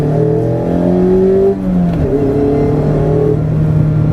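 A 2016 Mazda Miata engine revs hard under acceleration, its rising drone dipping briefly at a gear change before climbing again, loud and close with no talking.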